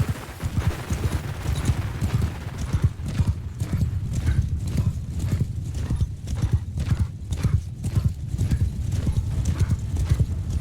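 Horse hooves pounding at a gallop in the medieval combat game Mount and Blade II Bannerlord, a steady rapid clip-clop rhythm running throughout, loud and close, with occasional snorting and faint battle noise.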